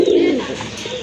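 A Madrasi Golla pigeon, a fancy breed kept for sale, coos close by in a steady, throaty burst with no talk over it.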